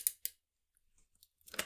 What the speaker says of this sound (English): just that crackling, that's the paper being cut through